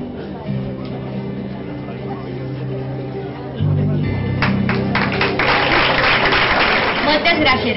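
Strong applause from a crowd at a Falles festival proclamation ceremony swells partway through, loud and continuous beneath a voice speaking over the hall's sound system.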